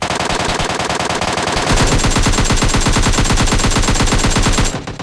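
Rapid automatic gunfire in a mobile battle royale shooter, loud dense bursts of shots that pick up in intensity and weight midway, continuing without pause before stopping abruptly near the end.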